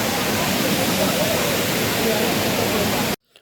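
Loud, steady rush of a waterfall roaring close by, a dense hiss that fills the air before cutting off abruptly near the end.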